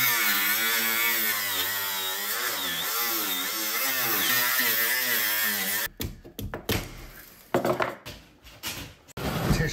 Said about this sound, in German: Ich hole jetzt einen Flex.